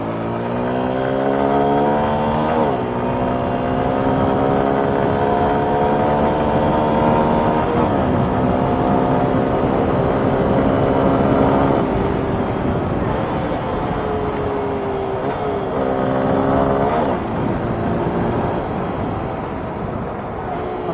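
Motorcycle engine revving and accelerating out on a road, loud and close, with repeated rises in pitch as it climbs through several gear changes over about twenty seconds.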